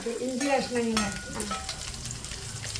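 Ginger and onion being stirred in a hot frying pan for a soybean roast, with a spatula scraping and clattering over a steady close sizzle, no voices.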